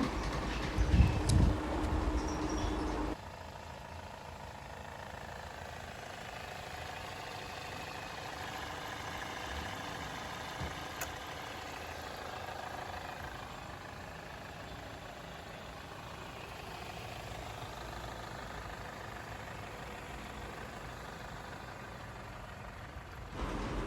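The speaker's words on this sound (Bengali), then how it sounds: "ইঞ্জিনটা কিন্তু এখনকার স্টার্ট অবস্থায় আছে আমি স্টার্ট দিয়ে রাখছি" A 2012 Toyota Axio's 1500cc 1NZ VVT-i engine with CVT gearbox idles at a car market, giving a steady, even low hum that runs on without change and without voices.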